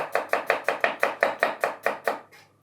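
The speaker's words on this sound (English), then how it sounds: "I'm gonna dice it into it, slice it." A knife chops rapidly on a cutting board as an onion is diced for butter beans, about eleven evenly spaced crisp strikes, close and distinct with no voices.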